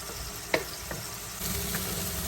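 Onions and shrimp fry in a pan, giving a steady close sizzle with a few sharp clicks as the ingredients are stirred.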